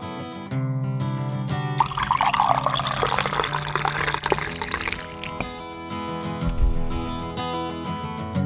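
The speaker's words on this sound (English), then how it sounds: "And I'll pour myself some more tea." Tea poured from a pot into a cup, a bright liquid trickle rising in the middle of the clip, with faint clinks and light handling sounds before and after.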